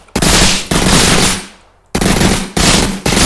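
Gunfire in the video game Project WTTN as enemies are killed, with loud, close bursts of rapid automatic fire broken by a brief pause and a few short stops.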